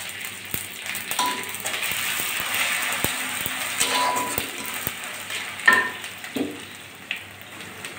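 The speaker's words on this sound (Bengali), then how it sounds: "এই যে 5 ফোড়ন দিচ্ছি।" Panch phoron spices sizzle and crackle in hot oil in a pan, a steady frying hiss with scattered pops and light clinks of utensils, close and fairly quiet.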